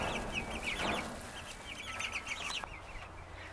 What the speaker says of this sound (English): They're all up and at 'em. Very active little chicks.